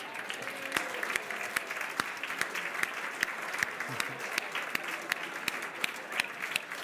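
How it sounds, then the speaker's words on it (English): A charter auction audience gives itself an enormous round of applause, steady dense clapping from a crowd held at an even level throughout. "Please give yourselves an enormous round of applause"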